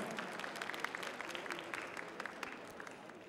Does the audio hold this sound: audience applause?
yes